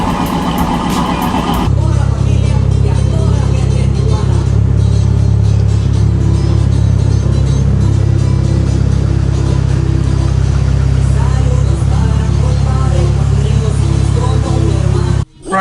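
A 2007 GMC Yukon Denali engine runs steadily just after a push-button cold start, a loud, continuous low rumble held at a high idle, with a brief burst of noise at the very beginning before it settles.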